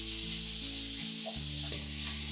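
Chicken pieces browning in a hot cast iron pan for chicken stroganoff give off a soft, steady sizzle and fry under a low electrical hum, with a couple of faint clicks from stirring near the end.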